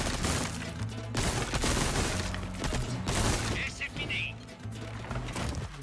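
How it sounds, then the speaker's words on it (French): Rapid gunfire from a Resident Evil 4 video game session, a dense continuous volley of shots filling the whole stretch, loud and close, with game sounds layered in and a voice speaking at points. "J'ai tiré beaucoup trop sur des mannequins."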